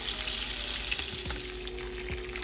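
Salmon fries in a pan with a continuous close sizzling hiss, fairly quiet and even, with faint clinks and a low hum beneath and no talk.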